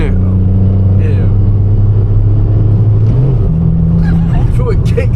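A car engine pulls hard in third gear, a loud sustained drone that climbs in pitch and shifts near the middle, with voices talking over it inside the cabin.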